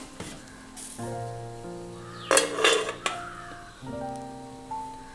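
A metal pot lid lifts off a pot of steamed semolina balls made with flattened rice after about five minutes of cooking, with a short clatter and scrape over a steady low kitchen hum.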